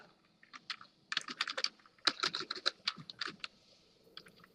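Rapid bursts of typing on a computer keyboard while writing CSS code for a simple HTML card design, fairly close and moderately quiet, in uneven clusters of keystrokes with short pauses between.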